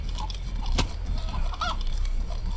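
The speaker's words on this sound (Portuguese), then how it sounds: "tem uma galinha por aqui! Eu ouvi." Brief chicken clucks in the DayZ video game, a couple of short calls heard close over a noisy background with a sharp knock partway through.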